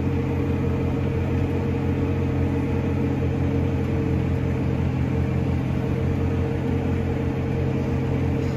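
A Puma tractor engine labours uphill in 9th range, giving a steady, loud, low drone with a constant rumble and no let-up, heard from inside the cab.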